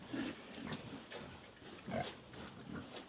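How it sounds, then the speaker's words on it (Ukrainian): Pigs on a farm with sows and piglets grunt and oink in a run of short, repeated calls, several animals close by at moderate loudness. "На його фермі півсотні свиноматок та близько сотні поросят."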